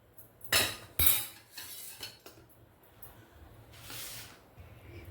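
Utensil scraping and clinking against a hot pan while Maggi noodles are stirred with onions for a Korean-style Maggi, two sharp clanks near the start, then softer intermittent scrapes and a brief sizzling swell, close and fairly quiet.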